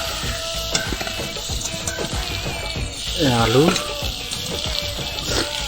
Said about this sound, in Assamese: আলু দি দিলোঁ, অলপ লৰাই লওঁ এনেদৰে